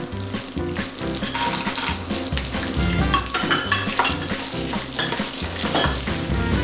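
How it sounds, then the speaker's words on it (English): Makhana fox nuts and cashews frying in well-heated oil, stirred, giving a loud, busy crackling sizzle overlaid with steady music, continuous throughout. "Now we add the makhanas, the foxnuts. Give them a nice stir. Now we add the cashews."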